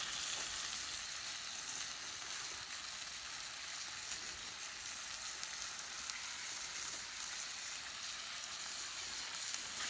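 Food frying in a pan over an outdoor bushcraft fire, a steady bright crackling sizzle that stays even and close throughout, no voices.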